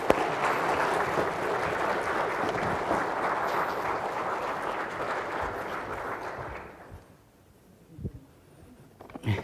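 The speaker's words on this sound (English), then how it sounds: "Folks, maybe just a round of applause, I think," Graduation audience applauding in a steady, dense wash of clapping that lasts about seven seconds and then fades out, leaving a quiet room with a few faint noises.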